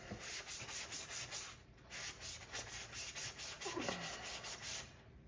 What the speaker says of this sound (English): you can just sand that down a bit